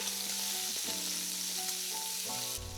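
Carrots stir-fried in a pan for japchae, Korean glass noodles, give a soft, steady sizzle beneath background music.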